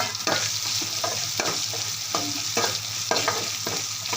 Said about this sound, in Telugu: వెల్లుల్లి పేస్ట్ వేసుకుందాం. దీన్ని కూడా మంచిగా నూనెలో వేయనియాలి.